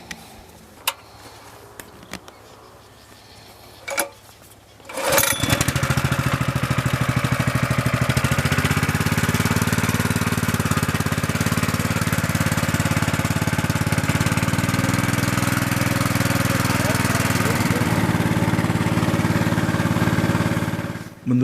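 An engine-driven chopping machine shreds leaves to make fertilizer on a potato farm near Semeru in East Java, starting after a few faint knocks and then roaring loudly and steadily for over fifteen seconds.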